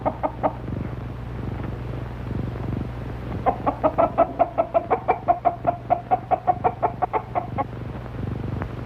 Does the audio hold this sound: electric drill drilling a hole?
no